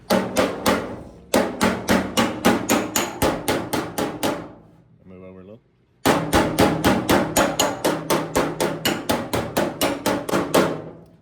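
Rapid, loud, evenly spaced hammer blows ring off 1968 Dodge Charger fender sheet metal worked over a spoon, in two long runs split by a brief pause where a voice speaks.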